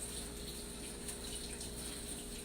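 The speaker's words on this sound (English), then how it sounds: "I've got to kind of rinse out the beater from the egg white" Tap water runs steadily over a mixer beater as egg white is rinsed off in a kitchen sink, a faint, even splashing hiss with no break across the short stretch.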